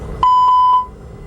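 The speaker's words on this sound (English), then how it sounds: "I'll perform a fire warning test before starting the APU." An Airbus A320 cockpit fire warning test alarm sounds as a single loud, steady electronic tone lasting about half a second, with faint pulsing, close and alone.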